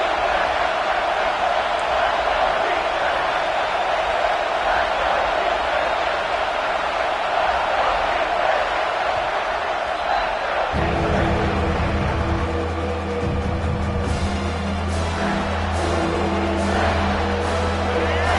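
A stadium crowd at a college football game in the Horseshoe roars in a loud, continuous wash of noise, and a denser, more tonal chant or band-like swell takes over partway through.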